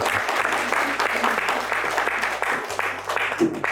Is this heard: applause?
yes